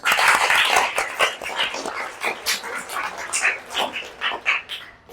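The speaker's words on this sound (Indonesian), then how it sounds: "tepuk tangan lagi yuk untuk kita semuanya" Schoolchildren in a classroom clap together, a busy, uneven patter of many hands with children's voices and yelps mixed in, rising and falling in bursts.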